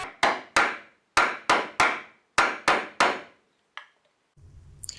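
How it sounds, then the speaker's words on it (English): A mallet drives a chisel into wood to cut a shallow relief for a garden gate lock cover plate, giving eight sharp, ringing knocks in uneven groups, close and loud, then a faint tap and rustle. "I use a router and a chisel to create a shallow relief for the cover plate."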